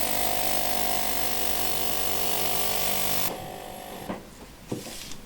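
An ultrasonic parts cleaner used for servicing a Sessions Berkeley mantle clock runs with a loud, steady buzzing hum for about three seconds, then shuts off, leaving a quiet room with a couple of small clicks and knocks.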